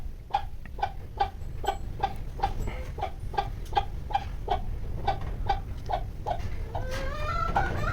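A free-range hen on a farm clucks in a steady, rhythmic series of short calls, close by, ending with a few drawn-out rising notes; no talking.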